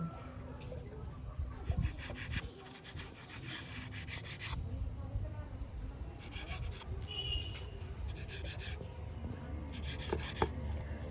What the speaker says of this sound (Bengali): এবারে দু সাইড থেকে কেটে চৌকোনা করে নেব